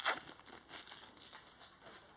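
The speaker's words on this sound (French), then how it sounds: "On va enlever le plastique." Plastic wrap is peeled off a new TV remote control that doubles as a keyboard, giving close, soft crinkling and crackling, strongest at the start and then lighter rustles, with no talking.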